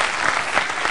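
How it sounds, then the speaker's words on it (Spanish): A television studio audience applauds during a Spanish variety talk show, a dense, close wash of clapping filling the whole brief moment. "Un aplauso para ella."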